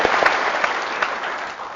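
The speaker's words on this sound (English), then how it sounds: "let's have another round of applause for Team Cult Creators." An audience breaks into a round of applause for a team after its business presentation, a dense, even wash of many hands clapping at close range, holding steady and tapering slightly at the end.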